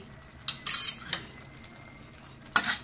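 Masala for kharda chicken being mixed in a pan, a few sharp clinks and scrapes of a spoon against the metal in short bursts over a faint sizzle.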